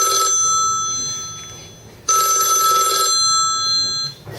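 A mobile phone ringtone rings out loud and close in a meeting setting, two bright electronic bursts of repeating tones, the second starting about halfway through, with nothing else over it.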